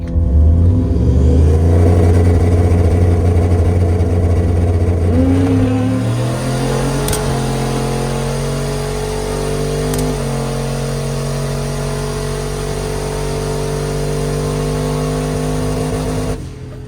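Turbocharged Dodge Dakota RT truck with a stock bottom end launching down a drag strip, a loud engine revving hard and climbing in pitch, a quick upshift, then a steady high drone as it pulls away.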